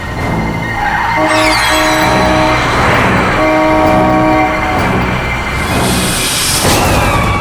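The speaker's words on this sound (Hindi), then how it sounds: "हॉर्न पे हॉर्न मार रहा है।" Vehicle horn blaring repeatedly in traffic, loud sustained honks in several long blasts with a harmonic tone, close and dominant over road noise and no talking.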